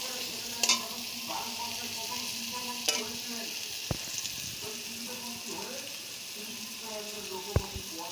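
Pumpkin pieces frying in hot oil give a steady, fine sizzle throughout, with occasional sharp clinks of a utensil against the pan.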